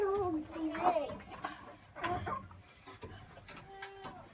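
Hens cluck and squawk nervously in a coop during egg gathering, several close, overlapping calls in short bursts, with people moving and talking quietly among them.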